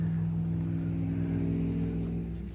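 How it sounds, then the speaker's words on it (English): Night road traffic near Twin Lakes, Colorado, produces a steady low engine drone of a vehicle rolling past, fairly close and moderately loud. "A lot of traffic tonight."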